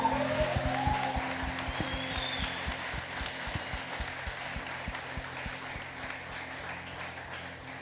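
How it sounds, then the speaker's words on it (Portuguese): Steady applause from a church worship congregation fills the whole stretch, with a sustained low musical drone and repeated rhythmic beats underneath. "Você pode aplaudir a Jesus?"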